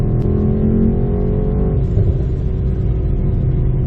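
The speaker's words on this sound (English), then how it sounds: "Love the popping and stuff from the exhaust." A 2019 Mercedes-Benz E63 S AMG rumbles loudly and steadily up close, its exhaust giving a low, continuous drone with a brief crackle as the tone shifts partway through.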